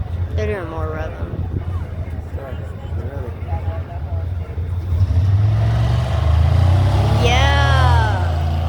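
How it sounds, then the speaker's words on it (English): Car engines rev loudly at drag races during a Dodge car show, a deep sustained roar that swells louder in the second half, with voices and crowd noise over it. "They're doing more revving."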